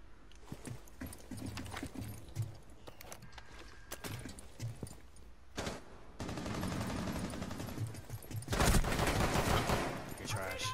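Scattered gunshots and rapid bursts of gunfire in Rainbow Six Siege, with heavy sustained firing near the end and people talking faintly in places.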